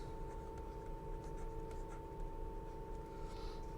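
Marker or chalk strokes on a board during a linear algebra lesson on basis change, soft scratchy writing sounds under a steady background hum.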